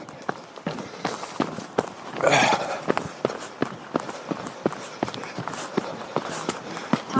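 Running footsteps of a jogger on a forest trail under the tree canopy, quick rhythmic thuds close by, with a louder burst around the middle.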